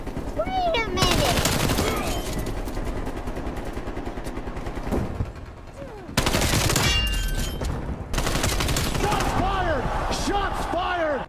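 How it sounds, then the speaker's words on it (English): Rapid gunfire bursts fill a shooter video game match, loud and dense with sharp repeated cracks, broken by a brief lull before heavy firing resumes, with voices talking over the shots. "Shots fired!"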